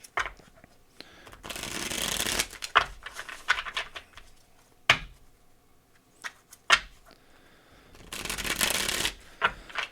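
Tarot cards being shuffled at close range, bursts of dense riffling separated by sharp taps and slaps of the deck, with quiet pauses between.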